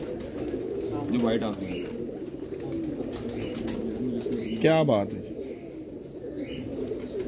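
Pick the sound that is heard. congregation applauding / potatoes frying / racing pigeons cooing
racing pigeons cooing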